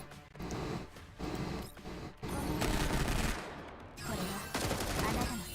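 Rapid bursts of gunfire in the mobile game Fate/Grand Order, loud volleys separated by short gaps, mixed with game effects and no talking.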